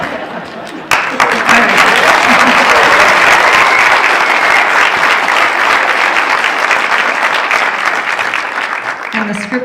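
Loud, sustained audience applause at a university awards night, rising sharply after a brief quiet start and holding steady as a dense wash of clapping, with a voice speaking briefly over it.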